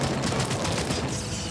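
Assault rifle gunfire in RoboCop: Rogue City, a dense, rapid burst of automatic shots running continuously through the short stretch, loud and close.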